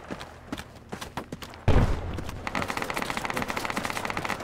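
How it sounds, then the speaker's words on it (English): Assault rifle fire in the tactical shooter Project Reality, heard as a loud burst of rapid shots followed by a steady stream of quick, evenly spaced cracks, some distant crackle before it. "Oh, AR fire north."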